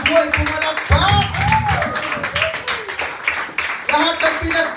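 A prayer-group congregation in Macau claps in a busy, uneven patter while a voice calls out over the hands.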